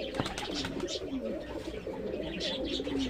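Pigeon cooing in a loft, a series of soft low rolling coos repeated through the stretch, close and clear over faint background noise.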